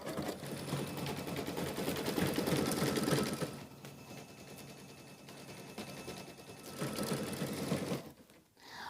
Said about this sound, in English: I can now put it back into my machine, and it's going to do a top stitch around the egg